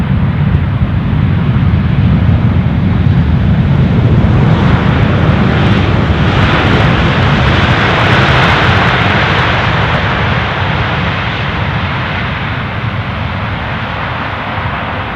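An airliner landing at Amsterdam Schiphol Airport, its engines a loud continuous roar that swells and washes past as the aircraft touches down, then slowly fades.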